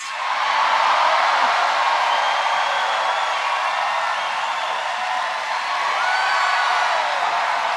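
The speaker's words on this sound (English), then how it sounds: "People would cheer so loud for roads." A large rally crowd in Flint, Michigan, cheering and whooping in one sustained, loud roar of many voices that holds steady from start to finish.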